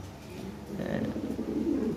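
Lahore pigeons in a loft coo steadily, a low continuous throaty murmur from several birds at close range, with faint background noise and no speech.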